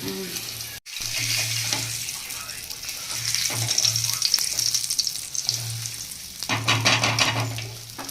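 Pieces of a freshly caught large fish fry in a pan with little oil, making a continuous loud sizzle with faint low voices and occasional stirring underneath.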